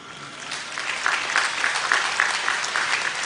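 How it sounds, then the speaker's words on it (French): Steady audience applause fills the hall at a church jubilee celebration, a dense wash of clapping that swells slightly and holds without a break. "Applaudissons pour notre gardien"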